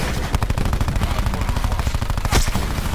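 Rapid, loud automatic gunfire in a Call of Duty: Black Ops 4 match on Nuketown, with sustained close bursts of shots repeating in quick succession.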